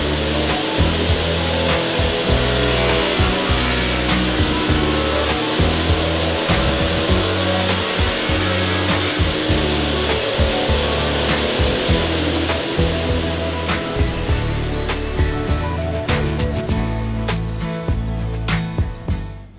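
A table saw running through wood to cut a dado with a Strip Rip Dado fixture, a loud, steady whine broken by a repeating rhythm of cutting strokes, close up with no talking.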